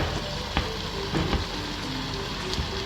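Hot dogs frying in a crowded pan of hot oil, a steady close sizzle with sharp pops and spatters scattered throughout.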